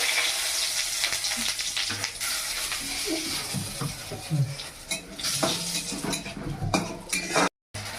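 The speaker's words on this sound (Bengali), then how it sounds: "দেখো তা আমি এই তেলেই দিয়ে দিলাম জিরে ফোড়ন, এই লঙ্কা ফোড়ন" Cumin and chili tempering sizzles hard in hot oil left over from frying catla fish, a dense, close crackle with scattered pops and utensil clinks, cut by a brief silent gap near the end.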